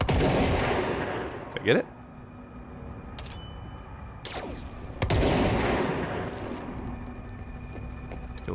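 Gunfire in a shooter video game, several loud sharp blasts spaced across the scene with ringing tails, plus a rising synthetic whine in between, while a person speaks briefly.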